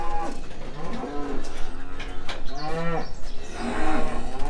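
Cattle being run through handling pens, with cows, heifers and cull cows being sorted, moo loudly and repeatedly. Several long, drawn-out bellows sound close by, overlapping one another.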